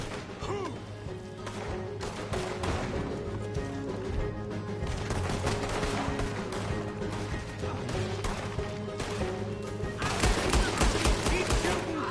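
Dense, continuous shootout in Red Dead Redemption 2, rapid overlapping gunshots and impacts filling the whole stretch, with voices heard beneath the noise.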